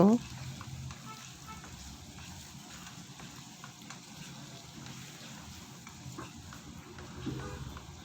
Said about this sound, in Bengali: এবার পেঁয়াজটাকে একটু ভেজে নেব